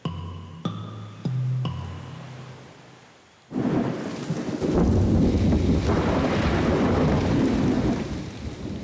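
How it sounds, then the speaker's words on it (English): A violent thunderstorm with heavy rain batters an island, a few sharp cracks at first, then a sudden loud thunder roll that gives way to a dense, steady downpour close by. "A violent storm is pummeling the island."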